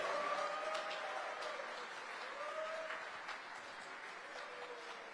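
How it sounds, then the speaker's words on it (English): Audience applause at the 2025 Sunhak Peace Prize award ceremony in Seoul after a musical performance, a dense, sustained wash of clapping from a large hall that gradually eases off. "Let us again express our deepest gratitude with a warm round of applause for Mr. Michael Lee, Ms. Yudia for their wonderful performance"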